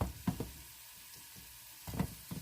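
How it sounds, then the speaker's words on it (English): Tomato paste cooks quietly in a pot, giving a faint, soft sizzle punctuated by a few light stirring scrapes and taps, with no speech. "stir the tomato paste in with everything and give the tomato paste a few minutes to start cooking"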